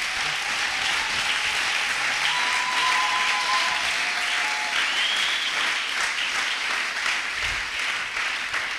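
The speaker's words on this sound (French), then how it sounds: "Est-ce qu'on peut l'acclamer très fort?" A church congregation bursts into loud, sustained applause and cheering, the dense clapping steady and close throughout with a few whistles rising above it.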